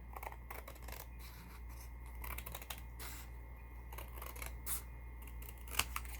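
Scissors trim the cover of a paper note pad in a run of close, crisp snips and slicing cuts, faint over a steady low hum.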